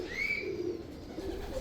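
Pigeons in a loft in Lahore, Pakistan, coo softly and steadily, with a faint higher whistle-like call drifting over the low, continuous murmur.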